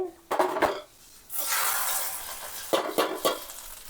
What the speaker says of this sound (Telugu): ఈ విధంగా వేగిన తాలింపుని మనం అన్నంలో పోసేసుకోవాలి